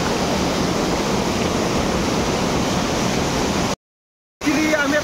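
A waterfall in the Konkan region pours out a dense, steady roar close by. The rush cuts out for a moment near the end, then resumes with faint traces of a voice.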